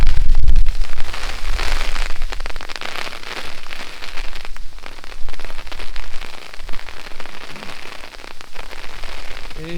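Heavy rain pelts down outdoors on a summer hike, a loud, dense, continuous patter close to the microphone with a sharp knock at the very start.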